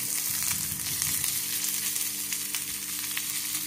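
Curry leaves and onion frying in a pan for a Maharashtrian pithla, a steady, fairly quiet close sizzle with faint crackles and no talking.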